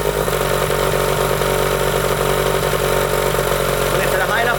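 A 1998 15hp Johnson outboard motor idles loud and close with a steady, throbbing mechanical drone that carries on unbroken throughout.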